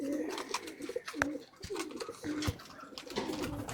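Racing pigeons coo softly inside their loft, several low, rolling calls repeating at a fairly close but quiet level, with faint rustling between them.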